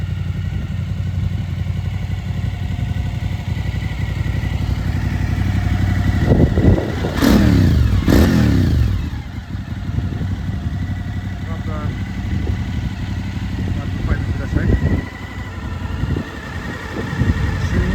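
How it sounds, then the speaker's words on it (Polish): A Suzuki DL motorcycle with a Shark straight-through exhaust runs steadily at idle with a deep throaty burble, blipping briefly louder midway, with talking over it. "Jak słychać i widać, mamy fajny przelotowy wydech szarka."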